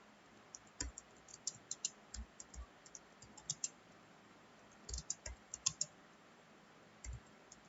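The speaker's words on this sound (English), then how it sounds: "Now we'll type the program." Keys clack on a computer keyboard while an HTML program is typed in Notepad, giving quiet, irregular bursts of clicks separated by short pauses, close and faint with no talking.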